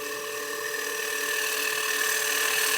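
A freshly ground turning tool, sharpened on a 180 grinding wheel, cuts wood on a lathe for a cake stand, giving a steady, continuous high whine with a smooth hiss that holds evenly and swells slightly toward the end.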